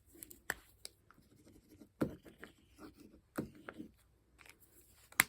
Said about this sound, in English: Go ahead, use your marker. And this is watercolor marker.